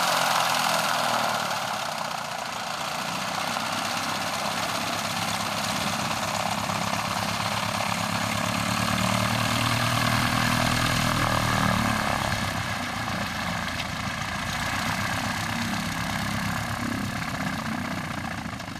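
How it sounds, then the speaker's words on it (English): A steady propeller engine of a small airplane taxiing on a runway drones close by for the whole stretch, its pitch and loudness holding fairly even, with no voices. "Back taxi on runway 19er."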